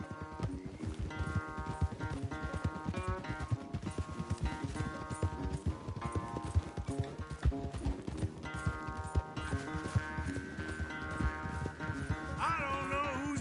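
Horses galloping in Red Dead Redemption 2, a steady rapid clip-clop of hooves running throughout under a bed of game music, with a brief snort or whinny near the end.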